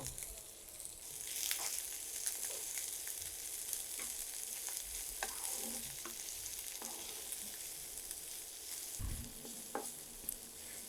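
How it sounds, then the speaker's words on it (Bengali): Onions and garlic fry lightly in a pan of hot oil with a steady close sizzle, while a spoon stirs and scrapes through them, ending in a dull knock against the pan. "আর এগুলো হালকা একটু ভেজে নেব"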